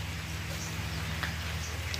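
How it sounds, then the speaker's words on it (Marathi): Steady rain falls in a village at the start of monsoon, with water dripping through a leaking tin-sheet roof; it makes a soft, even wash of patter under a low hum and lasts about two seconds. "ताच पाऊस आलाय."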